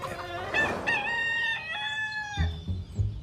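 A rooster on an English chicken farm lets out one full crow, loud and close, followed by a few short clucks and low farmyard noises.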